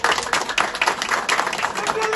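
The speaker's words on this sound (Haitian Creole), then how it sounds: "Nous battons un petit bravo pour messieurs dames collectif 30 janvier" An audience at an outdoor political gathering breaks into steady, dense applause, many hands clapping loudly and close for the whole span.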